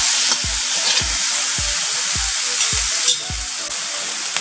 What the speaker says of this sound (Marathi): 1/2 चमचा तेल घालायचं आहे आणि परत छान असं भाजून घ्यायचं.